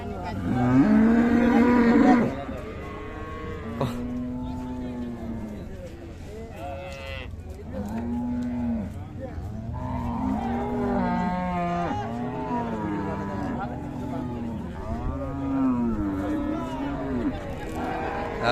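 Cattle, including a Friesian cow with calf, moo loudly at Raniganj livestock market in Dinajpur, one drawn-out low call opening and others following, mixed with voices and crowd noise.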